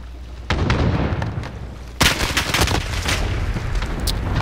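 Rapid gunfire from Call of Duty Modern Warfare in a Search and Destroy match, loud bursts of shots with sharp booming cracks, the densest volley starting about halfway and continuing under game noise.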